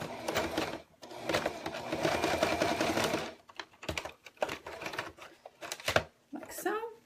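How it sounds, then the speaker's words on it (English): A sewing machine stitches a paper-pieced snowman block in several bursts, its rapid mechanical whirring broken by short pauses, close and clear, with someone talking between runs. "I'm going to sew it in place along the line between 2 and 3"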